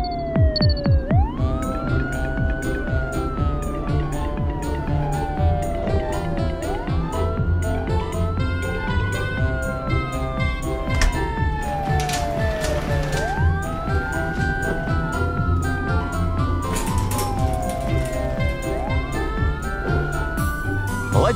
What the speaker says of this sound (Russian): Первым едет полицейский автомобиль.